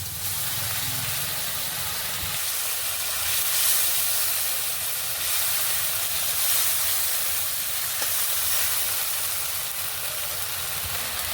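Ground cumin, dried chili and ginger paste hiss and sizzle steadily in hot oil in a pan, a continuous broad frying crackle with no talking.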